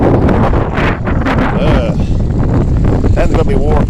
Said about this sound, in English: I am trying to block the wind as much as possible.